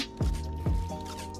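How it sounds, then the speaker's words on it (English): Liquid splashes from a Chug Splash healing item in the video game Fortnite, two quick wet splats about half a second apart, followed by a softer lingering slosh. "I need a chug. Chug splash."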